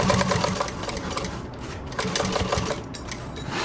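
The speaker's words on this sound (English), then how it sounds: "Sewing all the way across." Sewing machine running steadily as it stitches straight across a fabric tote bag panel, a continuous close mechanical whir with quick needle rhythm and no talking.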